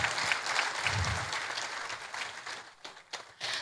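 Audience applause at a university convocation lecture, a dense steady clapping from a large crowd that thins into scattered claps near the end.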